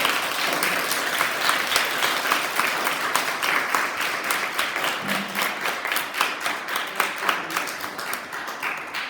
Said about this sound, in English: girls, can you stand up and give your teachers a big clap as well